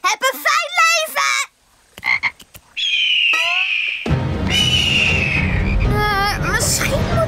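Frogs croak in a cartoon scene, with rapid rasping calls in the opening seconds, then shrill chirping cries and a busy background, all mixed with excited children's and girls' voices.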